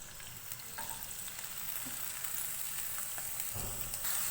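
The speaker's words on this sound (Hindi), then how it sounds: "ऑयल गर्म हो गया है, हम इसके अंदर प्याज ऐड करेंगे।" Finely chopped onion sizzling in hot oil in a pan for an aloo gobi dish, a steady close crackling hiss with occasional stirring scrapes, no talk.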